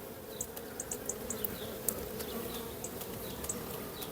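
Honeybees buzzing around an open beehive frame with sealed brood, a low continuous hum with brief louder passes of individual bees close by, no voices.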